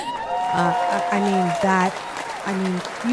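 An audience applauds with a steady patter of clapping while a voice carries over the top.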